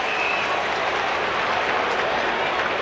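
The home crowd roars continuously at an AFL football match, Port Adelaide versus Melbourne, a dense, loud wash of cheering and clapping with commentary faintly underneath.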